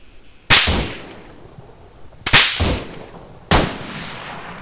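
Three loud, sharp gunshots crack out in a video game, each with a long echoing tail, spaced irregularly over a few seconds with no talk.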